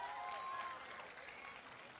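Audience applause at a live Family Day 2025 gathering, a soft, steady patter of many hands clapping that stays fairly distant and even for about two seconds before easing slightly.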